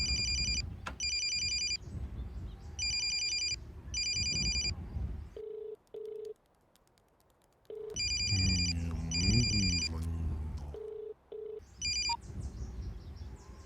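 A phone rings in repeated electronic bursts, unanswered, during a tense Telugu movie scene. Other tones and short sounds fill the gaps between rings.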